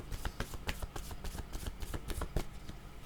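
Tarot cards being shuffled by hand, a dense run of crisp riffling and slapping card sounds, close and continuous with no talk.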